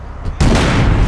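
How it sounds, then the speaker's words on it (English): A car blows up in the video game APB Reloaded after being rammed, a sudden loud broadband boom that fills the sound and holds as a sustained roar after a brief quieter lead-in. "I rammed the thing to get it to explode."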